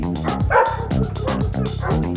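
A UK defence security service dog barks during handler training, a run of close, loud, rhythmic woofs and yips repeating every fraction of a second.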